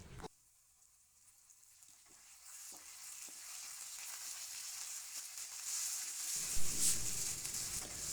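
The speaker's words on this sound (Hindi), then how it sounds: "प्याज का कलर चेंज हो गया।" Onions frying in oil for a saag tadka give a soft, steady sizzle that grows fuller and louder partway through, with faint stirring clicks and no voices.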